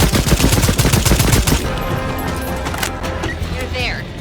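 Rapid automatic gunfire in the video game Second Extinction rattles loudly in close bursts for over a second, then gives way to softer combat ambience with voices.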